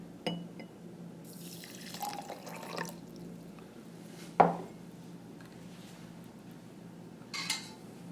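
A short trickle of water poured into a cup of basil seeds, with light clinks and a sharp tap midway, fairly close and otherwise quiet.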